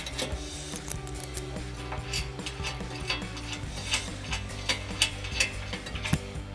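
Ratchet wrench with a 10 mm socket tightening two nuts on a stud for a running board bracket on a 2021-2024 Ford Bronco, giving close, rapid clicking pawl ratchets with metallic clinks, getting sharper toward the end.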